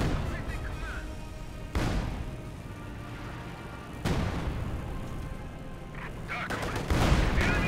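Bursts of gunfire and artillery in a Company of Heroes 2 match with Panzer IV tanks under heavy fire, several sharp booming blasts over a continuous clatter of battle noise.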